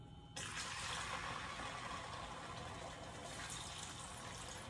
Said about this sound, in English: we're gonna pour some Hennessy into the sauce over here